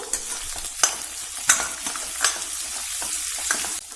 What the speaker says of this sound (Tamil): இப்ப இந்த வெங்காயம் சிறுபருப்பு இது ரெண்டுமே நல்லா செவந்து வர்ற அளவுக்கு வறுத்து எடுத்துக்கணும்